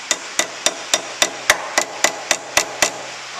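A hammer taps wedges under a flywheel on a 250 combine engine going into a hot rod, giving about a dozen sharp, evenly spaced knocks close by with no talk.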